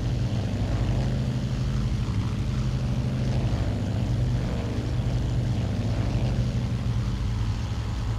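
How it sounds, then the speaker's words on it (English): Propeller engine of a Douglas World Cruiser in a flight simulator game, a steady droning hum with a low throbbing beat, constant and loud for the whole stretch with no talking. "Alright, we're going to throttle the engine back."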